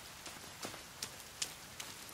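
Rain falling in the survival game The Forest, a faint steady patter with a few slightly louder drop hits spread across the short stretch, no voices over it.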